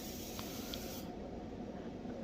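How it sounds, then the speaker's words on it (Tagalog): A spray gun lays clear coat onto the hood of a Tesla, giving a steady, loud hiss of atomized paint that runs unbroken through the whole stretch and then thins out in the highest range partway through. "Yan, ang ini-spray niya ng hood ng Tesla."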